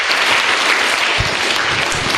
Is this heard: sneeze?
no